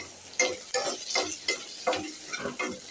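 Leafy saag greens fry in a pan, loud sizzling with rhythmic stirring scrapes roughly twice a second, up close and without talk.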